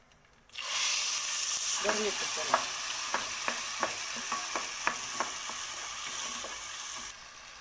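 Onion paste for a baby potato curry hits a hot pan and sizzles steadily up close, with a scatter of sharp spatula scrapes and taps across the pan as it is stirred, then the hiss quiets.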